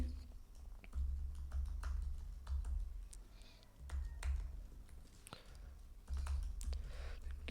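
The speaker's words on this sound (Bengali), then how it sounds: "তো কমেন্ট হিসাবে আপাতত আমি আমার ইমেলটা লিখে দিচ্ছি।" Fingers type on a computer keyboard with quiet, irregular clicks and taps, set over a low background hum.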